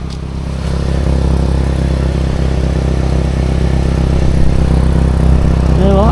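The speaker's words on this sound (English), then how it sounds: "I have got a blow on the exhaust I can hear." Blowing exhaust on a Nissan Juke, leaking at the middle box, heard as a loud, steady engine drone with a rough puffing note that holds throughout.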